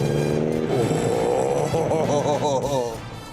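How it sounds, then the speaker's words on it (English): A 1964 Ford Mustang with a V8 engine rumbles steadily as the muscle car drives on a road trip, mostly covered by people talking close by over the engine note. "living the muscle car dream in this 64 Mustang, kitted out with a V8 engine"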